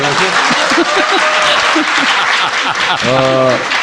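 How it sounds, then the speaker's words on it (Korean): Audience applause at a televised political talk show, dense and loud throughout, with voices talking over the clapping. "박수 부탁드립니다."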